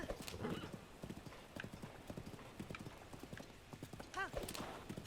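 Horse hooves clip-clop in a quick galloping rhythm in a video game, fairly close but quiet, joined by a brief whinny near the end, with talk mixed in.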